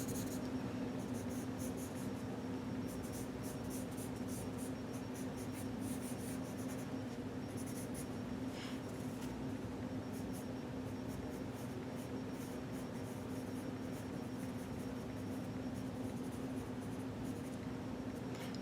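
Steady scratching of a pen or pencil drawing a sketch in a creative journal, continuous and close, with soft rubbing strokes against a constant room hum.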